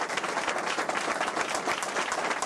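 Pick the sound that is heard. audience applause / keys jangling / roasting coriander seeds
audience applause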